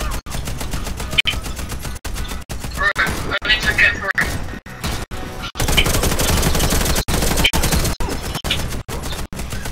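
Rapid bursts of gunfire from the first-person shooter Warface on the Switch, loud and close, with repeated volleys and short pauses; a player talks intermittently over the shooting.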